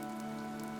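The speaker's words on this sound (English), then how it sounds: "This rain threatens a coming storm." Rain patters steadily in a Fire Emblem: Three Houses cutscene, a brief, faint wash of falling drops under a low ambient hum, with no voices.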